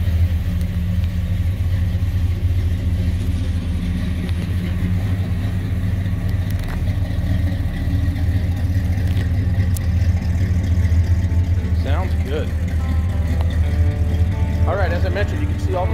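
A 1968 Chevrolet Suburban's engine runs steadily at the rear with a deep, even rumble, close and loud, while a person talks over it near the end.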